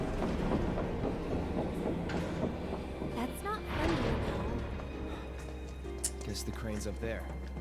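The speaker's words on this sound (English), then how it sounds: "Looks like we're taking a train." The phantom train from the Final Fantasy 7 Remake game rumbles and clatters with sliding-door and metallic screeches, while a person talks over it for much of the time.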